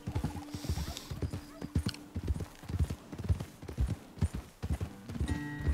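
Horse hooves clip-clopping in the video game Red Dead Redemption 2, a brisk irregular rhythm of several horses walking close by, with soft tack jingles and a short whinny-like tone near the end.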